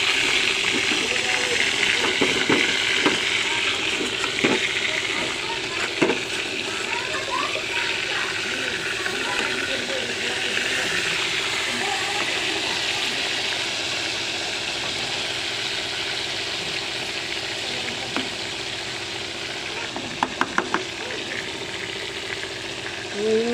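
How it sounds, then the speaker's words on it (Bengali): Potatoes fry in oil for a rohu fish curry, giving a continuous close sizzle while a spatula stirs them with scattered scrapes and clicks, and a few sharper knocks come near the end. "এই তো কষিয়ে নিলাম আলুগুলা।"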